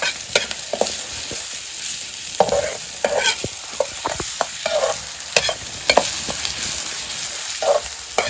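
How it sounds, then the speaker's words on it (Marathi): Chillies, garlic and onion roasting in a pan for Maharashtrian thecha, loud sizzling broken by repeated scraping stirs and clanks of a spatula in an uneven rhythm, with no voices. "आता हे करपून घ्यायला लागतं पूर्ण."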